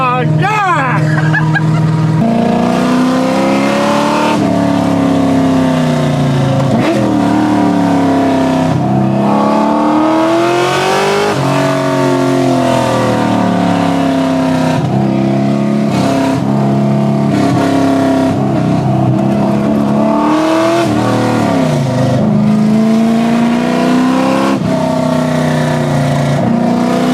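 A refurbished car with a welded sway bar drives and carves through corners, its engine droning loudly and steadily throughout, swelling and easing as it accelerates between bends.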